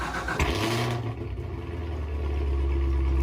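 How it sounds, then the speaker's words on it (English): Engine startup of a 2019 Chevrolet Corvette ZR1 in the Roblox game Driving Empire: a sharp crank and bark, then a steady, deep, rumbling idle, loud and close with no talk. "Startup is pretty mean"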